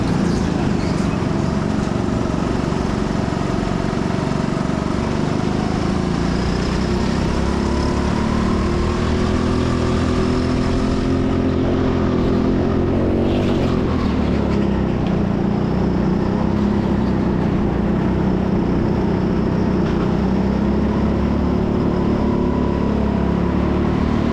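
Go-kart engine in a race at TeamSport Sheffield indoor karting: a loud, continuous, close buzzing drone that rises and falls in pitch through corners and straights, with the rumble of other karts around it and no talking.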